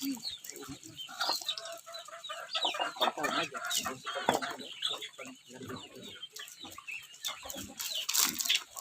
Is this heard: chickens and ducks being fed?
yes